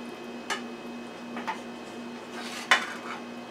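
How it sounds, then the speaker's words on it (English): Ingredients slid into a pan while cooking stuffed pollock fish, three light clinks of metal utensil against cookware over a steady kitchen hum, close and fairly quiet. "I need to put this in the pan first. So let me slide that in."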